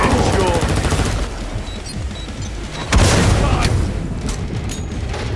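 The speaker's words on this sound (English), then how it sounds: "You keep shooting the walls." Gunfire in Killing Floor 2 peppers the walls in a dense, noisy game scene, with a steady wash of rapid shots and booms and a louder impact near the middle, all close and busy.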